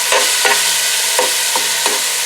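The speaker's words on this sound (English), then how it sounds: "you want to break the meat up too" Meat for chicken chili being broken up in a pot with diced San Marzano tomatoes and sauce, four or five regular scraping, stirring strokes over a steady loud sizzle, close and with no voices.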